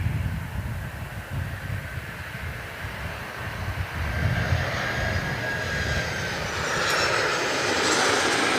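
A Brunei Boeing 767-200ER jet on its takeoff roll at Gold Coast Airport, a steady broad engine roar that swells slightly and holds, heard from the spotting area without speech.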